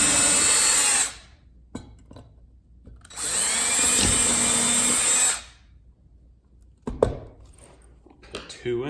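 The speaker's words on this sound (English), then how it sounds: "We'll just pre-drill the holes just to make sure that it doesn't crack the flooring" Cordless drill pre-drilling screw holes into flooring for an electrical floor outlet box: two loud sustained whirring bursts of a couple of seconds each, close up, separated by quiet handling clatter.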